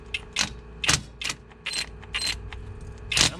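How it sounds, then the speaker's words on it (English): A Harbor Freight impact wrench working a bolt loose during a Big Bear 400 ATV oil pump replacement, firing in short, sharp rattling bursts separated by pauses, close and loud with no talk. "This Harbor Freight impact is already giving me some issues"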